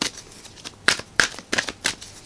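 A Surrender oracle card deck being shuffled, close and crisp, in a quick series of papery riffling bursts about every third of a second, with no talking over it.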